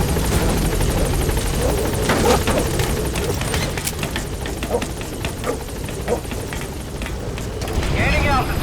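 The helicopter Pequod in Metal Gear Solid V thrums with a dense, continuous rotor roar as it flies, loud and close throughout, with a radio voice speaking over the din.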